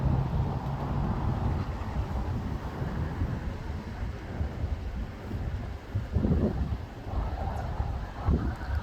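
Wind gusting ahead of a lightning storm in San Antonio, a faint steady rush with a couple of louder low buffets toward the end, no voices.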